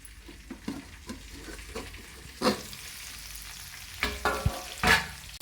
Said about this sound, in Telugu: రెండో సైడు కూడా ఒక ఐదు నిమిషాల పాటు వేగనివ్వాలండి మూత పెట్టి